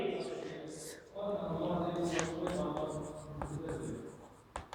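Chalk or marker strokes scratch across a classroom board during a demography lecture, with short scraping marks and taps under a teacher's steady spoken explanation.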